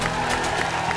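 A brief wash of crowd applause, steady clapping with a murmuring audience underneath, as a TV comedy show studio audience welcomes members of the Indian women's cricket team.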